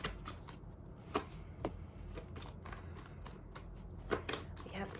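Tarot cards being shuffled up close, a steady papery riffle and slide with a few sharper snaps standing out, played alone at moderate level.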